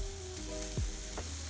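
Meat skewers with basting sauce sizzle on a street-food barbecue grill, giving a steady close hiss with a brief tonal sweep partway through.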